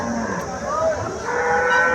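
A cow at the Mandi Dabwali cattle market gives one drawn-out moo up close, with busy market noise around it.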